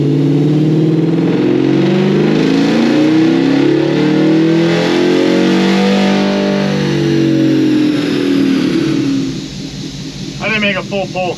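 The LT4 engine in a C10 pickup runs on pump gas and revs hard through a full pull, a loud, rising, distorted roar that climbs steadily before backing off at the end, with a voice heard briefly as it drops.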